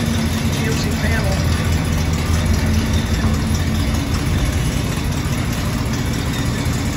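Inside a moving 1964 GMC panel truck, the engine gives a loud, steady low rumble with road drone that holds constant throughout.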